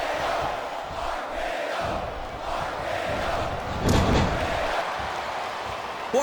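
Wrestling arena crowd at a WWE event chanting and roaring in a continuous loud wash of voices, with a sharper swell of noise partway through.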